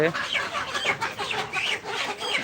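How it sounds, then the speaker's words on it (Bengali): Layer chickens on a farm being caught for delivery cluck and squawk in a dense, continuous close-up chorus, with agitated calls rising and falling throughout. "এখানে আমাদের মুরগি ধরা হচ্ছে"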